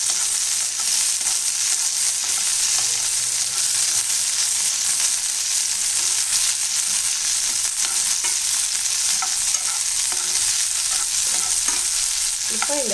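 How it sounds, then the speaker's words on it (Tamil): Garlic, green chillies and tomatoes sauté in a pan for a tomato-mint chutney, with a continuous loud, close sizzle and constant stirring, and no voices. "இப்போ இந்த பூண்டு, பச்சை மிளகாய், தக்காளியெல்லாம் நல்லா வதக்கிட்டு ரொம்ப குழைய வதக்க வேணாம்"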